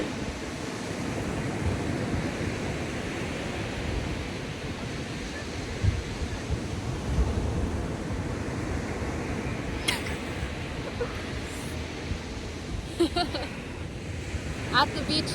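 Ocean waves break on a beach during a red tide, a continuous wash of surf mixed with gusting wind buffeting the microphone, with brief voices late on.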